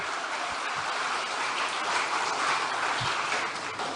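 Crowd applause at a political gathering tied to PDIP's Jakarta gubernatorial nomination: a steady, dense wash of clapping that holds at an even level for about four seconds, with no voices over it.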